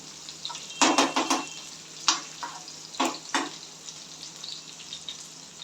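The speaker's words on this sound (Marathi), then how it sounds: "मिरची जिरी मोरी आणि कढीपत्ता तळून घेणार आहे" Green chillies, cumin and curry leaves fry in a hot pan, a soft sizzle under a series of sharp spoon-and-pan clatters as they are stirred, with no voices.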